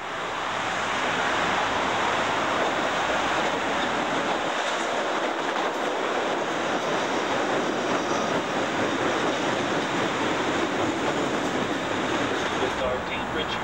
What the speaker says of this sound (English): I think the train's coming now